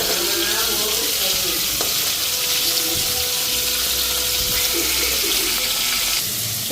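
Koi fish frying in hot oil, a steady broadband sizzle with faint bubbling and clinks running continuously and fairly loud throughout, with no talk.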